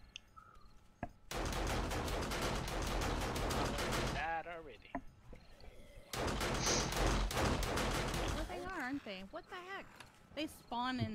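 Automated turret gunfire during a horde night in the survival game 7 Days to Die: two long, loud bursts of rapid shots, separated by a short gap, with someone talking between and after them.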